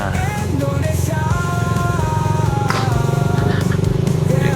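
Motorcycle riding a damaged mountain road on the Dieng route via Bandar, its engine a steady loud drone with shifting tone throughout, no talking heard.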